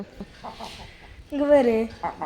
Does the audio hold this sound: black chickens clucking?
yes